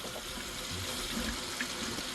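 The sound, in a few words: water running from RV tap fed by new pump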